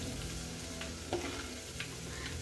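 Garlic fries in a pan for an eggplant curry, giving a quiet, steady sizzle with a few soft stirring scrapes and no voices.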